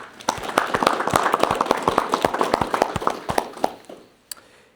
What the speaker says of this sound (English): please join me in a round of applause for their hard work to make today possible